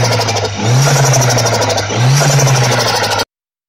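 1.8T turbocharged engine revving under full boost, with two rising pitch sweeps and a fluttering whoosh from the turbo valve at each gear shift, loud and close with no talk.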